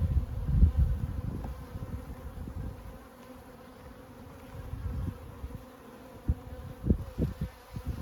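Honey bees buzz steadily at a black beehive during a summer honey harvest on a Turkish highland apiary, a dense close hum with occasional louder thumps and knocks.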